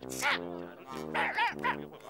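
A small dog yips and barks a few times in quick bursts, close by, mixed in with voices talking.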